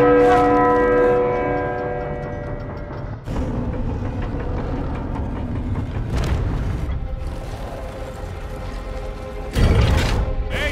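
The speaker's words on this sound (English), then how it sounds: "there is that big bell at the top" A large church bell tolls in Uncharted 4: A Thief's End, its deep ringing tone sustaining and decaying, struck again at intervals with heavy booming hits.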